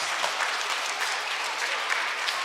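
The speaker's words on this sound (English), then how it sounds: "Give yourselves a nice round of applause." A dense, steady round of applause from a crowd at an elementary school Make-A-Wish Foundation presentation, loud and continuous throughout.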